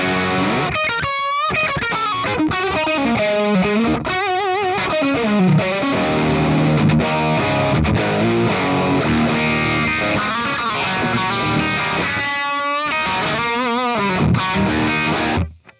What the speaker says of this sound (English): even the lead channel on the 800 just shines for your medium gain or rock tones